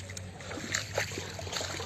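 People wade at night through knee-deep rainwater flooding near the Satluj river, with soft close sloshes and splashes from moving legs over a low steady background hum.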